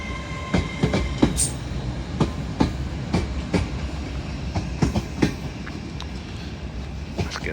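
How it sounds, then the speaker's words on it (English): TransPennine Express class 802 unit 802-213 pulling out at York, bound for Newcastle, wheels clattering over rail joints in an irregular run of sharp clicks and knocks above a low rolling rumble, moderately close with no talk. "Off that goes bound for Newcastle from Liverpool Lime Street."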